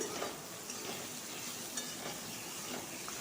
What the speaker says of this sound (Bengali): এবার আলুগুলোকে দিয়ে তেলের সাথে ভালো করে ভেজে নেব